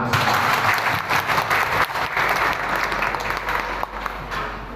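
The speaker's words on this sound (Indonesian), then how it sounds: "Tepuk tangan." Audience applause fills an indoor hall at a Muhammadiyah regional work meeting in Blora, a dense, steady clapping that carries on for several seconds with only a brief dip.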